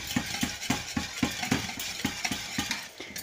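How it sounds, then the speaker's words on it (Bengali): A whisk beating flour into a chicken curry sauce in a pot, fast rhythmic strokes of about three per second, close and steady, with no talk. "দিয়ে ভালোভাবে এরকম হুইস্ক করে নিতে হবে"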